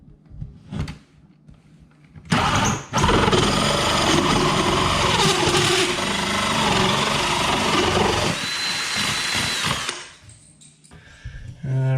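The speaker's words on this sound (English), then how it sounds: "I'm just going to use a drill because I'm like that" Power drill spinning a hole saw through a wall for an in-wall cable kit, a loud sustained grinding whir lasting several seconds after a brief start, then stopping with handling knocks.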